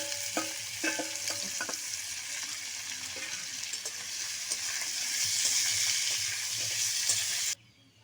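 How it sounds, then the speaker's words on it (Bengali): Raw jackfruit pieces frying in hot oil in a pan, a continuous close sizzle with a few spoon clinks and stirring knocks early on, the sizzle swelling louder toward the end before cutting off abruptly. "বাকি যে এঁচড়গুলো আছে সেগুলো আমি ভেজে নেবো একইভাবেই।"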